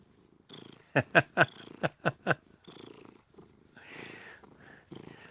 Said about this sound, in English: Oh, he's really purring hard now.